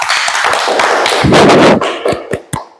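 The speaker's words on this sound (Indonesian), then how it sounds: "Aplaus dulu untuk kelompok A." A classroom group applauds at a teacher-training session in Makassar: a short, loud burst of clapping, then a few scattered, separate claps and taps as it dies away.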